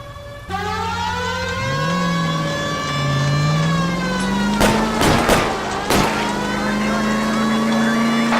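Car chase in the video game L.A. Noire: a loud engine revs and accelerates steadily, joined by a rising siren wail and a few sharp bangs partway through.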